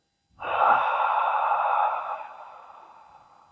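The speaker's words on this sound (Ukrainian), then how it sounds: "Спокійний вдих через ніс і смачний видих через рот" A calm, unhurried breath during a yoga practice starts abruptly and holds as a steady airy hiss for over a second before slowly fading, close and clear with no talking.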